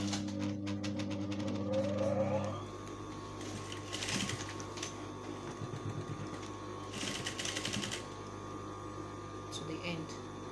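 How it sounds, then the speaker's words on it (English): A sewing machine stitches a jacket collar to the body of a sleeveless notched-collar jacket, its motor whirring steadily throughout, with a few louder bursts along the way. "So I'm going to sew it."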